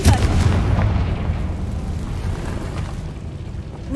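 A Confringo fire spell explodes in the video game Hogwarts Legacy, a loud booming blast with a deep rumble that slowly decays over several seconds, with no talk.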